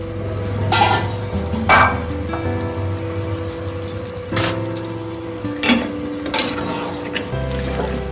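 Chicken kosha being stir-fried in a pan, with a steady sizzle broken by several louder scraping, stirring strokes spaced a second or so apart, close and fairly loud, with no talk.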